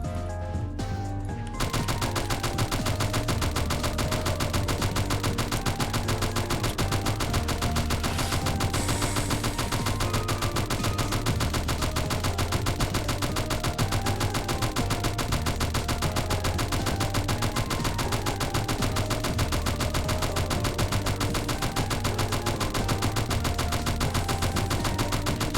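Rapid Uzi gunfire in the video game Shortventure 3, a dense nonstop stream of small-arms shots mixed with game music and effects, steady and loud throughout with no talk.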